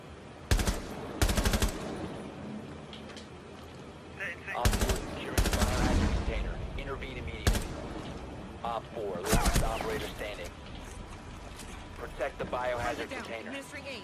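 Gunfire in the tactical shooter Rainbow Six Siege, with several loud bursts of rapid automatic fire and scattered single shots over roughly fourteen seconds, mixed with in-game effects and a voice talking in between.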